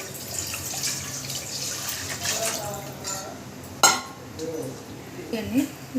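Water poured and splashing into a metal pot at a kitchen sink, with utensil clinks and a sharp knock midway, heard under intermittent talking.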